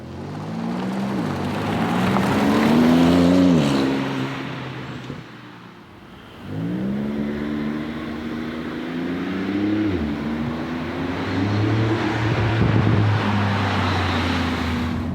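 A Porsche 911 Turbo S accelerating on a wet road, its engine loud and close, rising in pitch through repeated surges with a brief lift between them, over a constant hiss of tyres on water.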